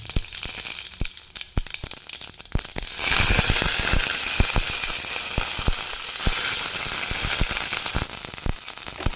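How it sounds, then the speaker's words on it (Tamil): Urad dal, mustard seeds and curry leaves sizzle in hot oil while tempering for chutney, a quieter crackle that surges into a loud, steady sizzle with sharp pops scattered throughout. "இதை திரும்ப வதக்கிக்கலாங்க உளுந்து கடுகு கருவேப்பிலை சேர்த்துக்கலாங்க"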